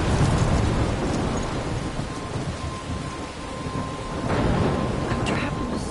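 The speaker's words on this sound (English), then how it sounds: "I'm trapped in a storm?" Thunderstorm in the video game Life is Strange: heavy rain pouring onto surfaces with deep rolling thunder swelling near the start and again toward the end, loud and continuous.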